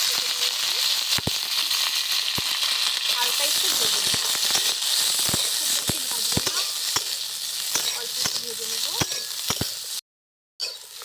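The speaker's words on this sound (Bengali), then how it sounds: "তেল গরম হয়ে গেছে ক্যাপসিকাম আর পেঁয়াজ দিয়ে দিই" Capsicum and onion frying in hot oil in a wok, a loud continuous sizzle with crackling pops and occasional stirring clatter, with a voice talking over it.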